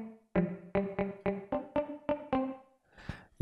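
Muted guitar sample from an Ableton Live pack: eight short, damped plucked notes in an even rhythm, each clipped off quickly, then a brief noisy scrape near the end, close and clear with no voices.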